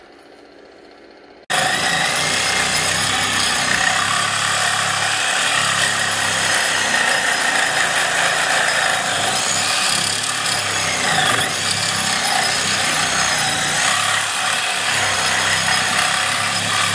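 Sawing through a part being trimmed to fit during a Predator 212 engine swap on a Coleman CK-100 minibike, a loud steady rasping cut starting after a brief quiet moment and running continuously to the end.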